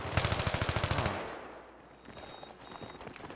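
Automatic gunfire in the Global Conflict video game, a quick rhythmic burst of about a dozen shots at moderate loudness, then a lull and fainter distant shooting.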